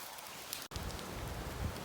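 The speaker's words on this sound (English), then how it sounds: "there are some serious water coming through the roof of this thing." Water pours through a tunnel roof, a dense, steady hiss of falling drops like heavy rain, close and continuous apart from a brief cut.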